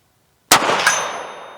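A steel target at 100 is hit by a round from a Rossi LWC .300 Blackout: a sharp metallic clang with a quick second strike, then a bright ring that decays.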